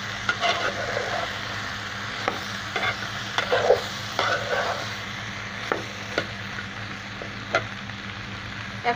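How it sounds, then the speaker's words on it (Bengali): Shrimp and okra being sautéed in a pan for a curry, a steady sizzle with scattered scraping and stirring clicks from a spatula, fairly close and without voices. "আমি অল্প একটু কষিয়ে নেব"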